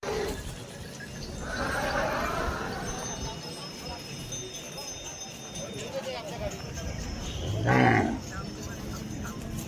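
Bulls and cows at a village cattle market in Lasur, with low moos rising out of a steady crowd murmur, one near the start and a louder, closer call near the end, under ongoing talk.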